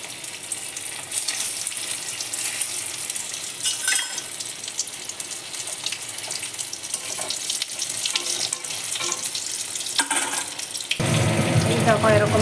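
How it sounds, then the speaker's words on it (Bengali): Pieces dropped one by one into hot white cooking oil fry with a steady, bright hiss and crackle throughout, close and fairly loud, with a sudden louder surge of sizzling near the end. "তেল গরম হয়ে গেছে, এটা আমি ছেড়ে দিলাম। এক এক করে ছেড়ে দিচ্ছি।"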